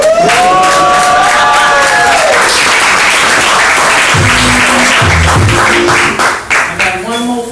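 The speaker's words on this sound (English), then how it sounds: "Y'all can clap now." An audience at a live poetry performance bursts into loud applause and cheering, with whoops and shouts over dense clapping close by, tapering off toward the end.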